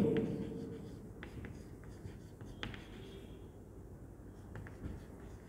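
Writing on a board during a maths lecture on series convergence, a series of faint scratchy strokes and taps with quiet pauses between them, close and soft, with no speech over them.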